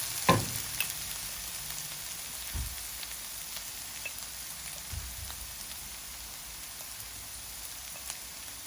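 Bitter gourd fries in a pan with a quiet, steady crackle and sizzle, broken by a few soft stirring knocks.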